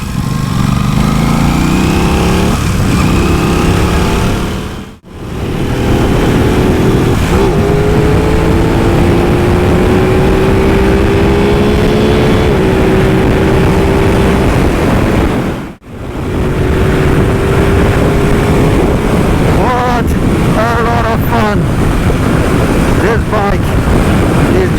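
An Aprilia RS660 sport motorcycle is ridden hard, its engine note rising and falling through the revs under a constant roar of wind rushing past the rider, with two brief dips where the throttle closes for gear changes.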